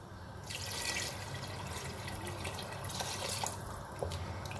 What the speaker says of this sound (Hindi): ये देखिए ये तकरीबन 1 जग पानी डाला है इसके अंदर। थोड़ा सा और डाल देते हैं इसके अंदर।